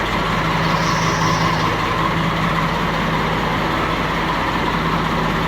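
A used 2006-model tractor idles at a second-hand tractor market, its diesel engine giving a loud, steady, close rumble with an even low throb and no talk over it.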